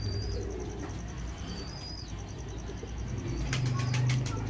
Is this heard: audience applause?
no